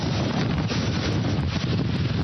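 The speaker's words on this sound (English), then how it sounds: "That's a wind gust right there." Hurricane Sandy's wind gust roars continuously and loudly against the microphone, a thick unbroken rush of buffeting noise with no voices.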